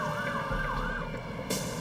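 An ambulance siren wails in steady rising and falling sweeps over a low rumble of traffic, sounding moderately distant and continuous with no voices.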